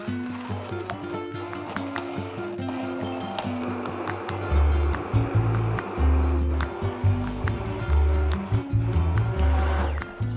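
Blender motor churning gazpacho with added mussel water, a loud continuous grinding whir that surges and pulses in bursts through the second half, heard alone.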